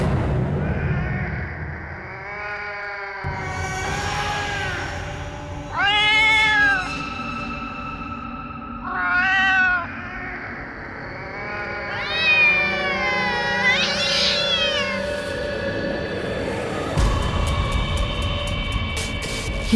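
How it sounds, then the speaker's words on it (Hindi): A cat meows repeatedly, drawn-out rising and falling cries spaced a few seconds apart, over a rumbling background noise. "ये तो वही बिल्ली की आवाज है"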